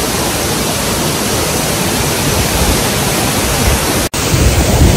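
Loud rushing water at a waterfall at a sacred indigenous site, a dense, steady broadband roar that holds without pause and cuts out briefly near the end.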